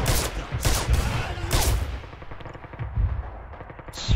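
MG42 machine gun in the game Red Orchestra 2, bursts of rapid automatic fire with loud clustered shots, several sustained volleys early and lighter scattered gunfire later, close and dense with no talking.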